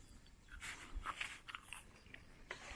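Someone bites and chews crunchy food on a hiking trail in Turkey's Lycian Way, with close, irregular crunches and a few sharper bites, quiet and without talk.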